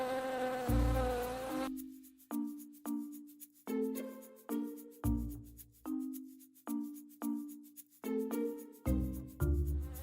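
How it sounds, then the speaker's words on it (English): Close, droning buzz of a flying bee, pulsing in repeated swells as it moves about, loud and steady with no voices. "When this bee flies to another flower"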